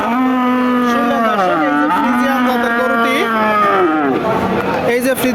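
Friesian cattle at a livestock market giving long, loud, drawn-out moos in close succession, with a murmur of crowd chatter underneath.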